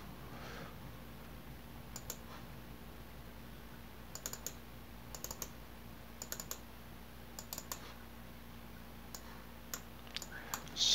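Scattered bursts of quick, light key clicks from typing on a computer keyboard, faint and close in a quiet room, with pauses between short clusters of keystrokes.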